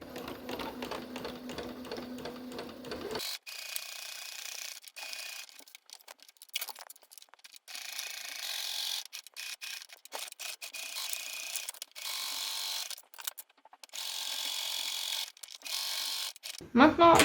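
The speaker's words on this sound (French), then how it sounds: "On va venir faire un point droit sur un côté complètement." A sewing machine runs a straight stitch along the side of a fabric tote bag, giving quick, even mechanical clatter in bursts that start and stop. Near the end a voice speaks briefly over it.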